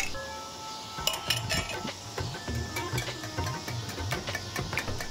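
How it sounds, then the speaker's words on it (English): A whisk or spoon clinks and scrapes rhythmically against a bowl while yogurt is beaten for onion raita, quick repeated strokes close up with no talking. "Whisk well."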